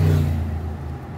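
A motorbike engine revs loudly and close, a strong low droning roar that holds steady, then eases slightly and keeps running.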